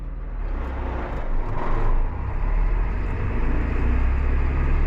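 A John Deere 8300 farm tractor pulls a Salford tillage tool across oats ground, giving a steady, loud low engine drone with broadband rumble that holds for the full stretch without a break.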